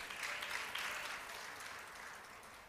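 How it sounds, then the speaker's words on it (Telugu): A church congregation claps together in praise of God, a steady wash of many hands that fades slightly toward the end, with no talking over it. "మీరు ఎంత చప్పట్లు కొట్టి దేవుని స్తుతించాలి"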